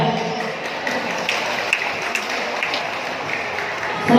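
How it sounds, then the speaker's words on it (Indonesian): Audience applause at the closing ceremony of the 2019 KAJARI Cup boxing championship, a steady spread of clapping from a crowd in a large room, moderately loud, with scattered taps and faint voices underneath. "Untuk hadirin memberikan tepuk tangan yang meriah"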